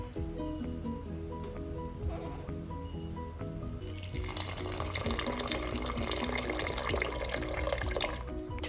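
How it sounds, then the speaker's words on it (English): Water poured into a pot of Nigerian buka stew with cow feet, onion and seasonings, a steady splashing pour that grows louder and denser midway, with dripping, close up and alone. "Just adding a little bit of water and onion."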